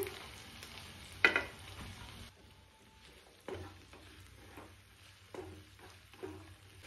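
Onion, capsicum and cabbage are lightly sautéed in a pan for street-style chilli potato, a soft, close sizzle broken by several sharp scrapes and clinks of stirring.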